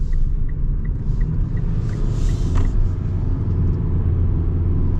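Inside a 2024 Mitsubishi Outlander Sport SUV as it sets off and accelerates, a steady low engine and road rumble drones continuously with no talk over it.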